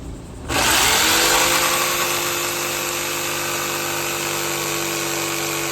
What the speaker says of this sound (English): Now I'm about to hit it with the jigsaw, dude.